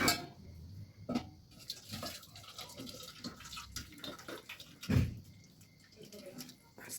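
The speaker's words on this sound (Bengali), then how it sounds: "গামলার মধ্যে ঢেলে দিলাম, এই শেষ এক গামলা সবজি।" Vegetable fish curry with winter vegetables is poured from a pot into a bowl, making wet sloshing and dripping sounds with a couple of louder metallic knocks, close and fairly quiet.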